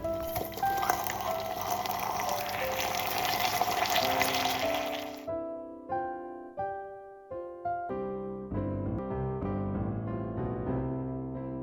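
Hot water pouring into a pan of sugar caramel for a Konkani bebinca, a loud broadband hiss and sizzle for about five seconds that cuts off abruptly, followed by music.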